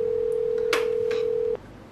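A telephone line gives a steady, loud electronic tone while a call is dialed, holding for about a second and a half before cutting off, with a brief click partway through and no talking.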